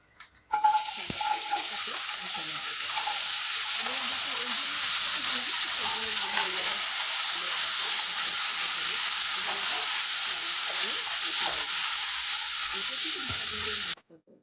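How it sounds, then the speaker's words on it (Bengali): Dried red chilli and black cumin frying in a pan over a medium-low gas flame: a loud, steady, hissing sizzle that starts abruptly and runs unbroken for over ten seconds, with faint talk beneath it. "শুকনো লঙ্কা আর কালো জিরেটা একটু ভেজে নেব"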